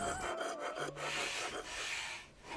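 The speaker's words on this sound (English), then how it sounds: "Sudhammal uses wet sandpaper to smooth the mirror's surface." Wet sandpaper rubbing over the surface of a handmade metal mirror, a steady close abrasive scrubbing with soft rhythmic strokes and no voices.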